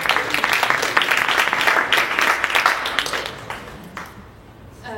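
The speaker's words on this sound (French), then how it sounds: "Donc applaudissez-les" Audience applause for two presenters of a coding project at a French event, a dense, steady wash of clapping that holds loud for about four seconds before thinning out and fading.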